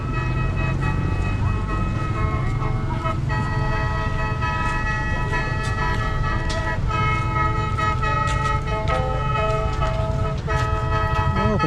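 A khaen, the Lao bamboo mouth organ, played by a roadside: sustained reedy chords drone continuously with a bright buzzing edge, moderately loud and steady throughout, with faint traffic-like ambience behind.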